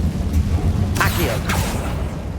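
An Incendio fire spell cast in the video game Hogwarts Legacy: two quick bright whooshing bursts of flame rising over a dense, loud rumbling background of game sound.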